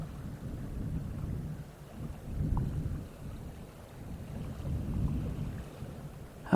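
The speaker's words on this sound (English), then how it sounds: "hopefully you've been hearing the water lapping" Lake water gently lapping at the shore of Lake Colorado City, heard as a low, rolling wash that swells and recedes in slow waves with steady wind rumble underneath.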